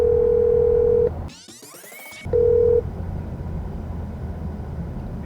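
A phone call connecting, with a steady ringback tone, then a burst of rising data-like chirps and warbles, then a short return of the tone, all loud and clear with no talk.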